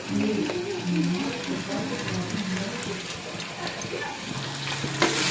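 Salt and turmeric frying in a pan give a steady, close sizzle that runs throughout with faint stirring scrapes and a brief clink near the end. Low speech-like tones sit underneath.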